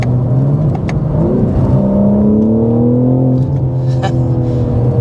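A 2025 BMW M4 CS accelerates hard along a back road, its engine note climbing loud and close with pitch sweeps that break and reset at quick gear shifts.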